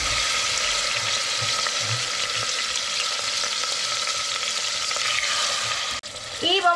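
Beef steaks frying in a hot pan, a steady dense sizzle that holds loud and close throughout, dipping briefly near the end before crackling on again.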